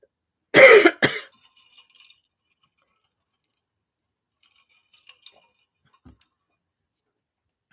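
A single close, dry cough from a woman with a lingering cold, split into two quick bursts, followed by near silence with a few faint ticks and clinks in the room.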